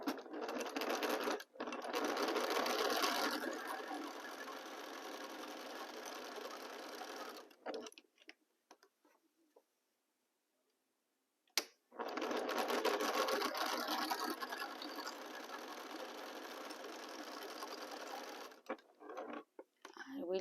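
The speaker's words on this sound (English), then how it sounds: "I organize my 2 squares and I'm going to start sewing." A sewing machine stitches two 4-inch quilt squares together, running in two long, steady, close bursts separated by a quiet pause.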